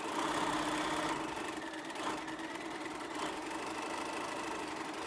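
A sewing machine hums and rattles continuously while hemming a fabric edge folded over a quarter inch twice, one even, moderately quiet run with no breaks.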